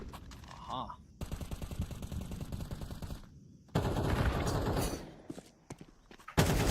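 Rapid automatic gunfire from a Counter-Strike match at a PGL Bucharest esports event, bursts of shots cracking in dense volleys with pauses between, an explosion-like roar midway, and a commentator's voice running beneath.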